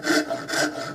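A worn, fine-cut wood rasp files a custom Remington 788 gun stock in a few close, rhythmic push strokes, each a dry rough scrape with brief pauses between.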